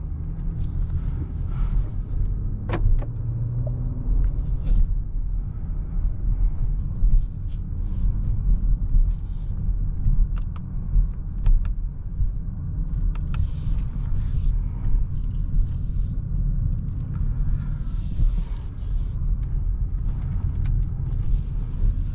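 Cabin sound of a 2023 BMW X7 40i SUV on the move: a low, steady engine and road rumble with light tire hum and small knocks, continuous and moderately quiet, no speech.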